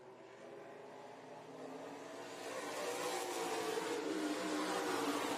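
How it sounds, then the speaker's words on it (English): Race car number 48 circling the track at 5 Flags Speedway, its engine whine swelling steadily as it draws nearer and accelerates, heard at a distance with no voices. "Hunter Evans in the 48 car now on the track to take time."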